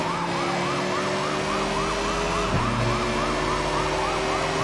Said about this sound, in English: Oh no, I got double siren